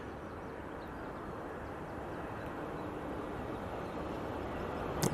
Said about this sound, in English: Virgin Atlantic, A350 1000 coming in from JFK.